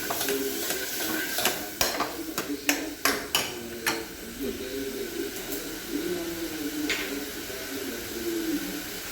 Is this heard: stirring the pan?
yes